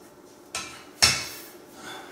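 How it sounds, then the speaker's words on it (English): Aluminum underside of an Asus 2-in-1 laptop knocking against a granite countertop, two short hard taps a half second apart, the second louder and sharper, close and alone. "You hear it hitting the granite there. It's metal."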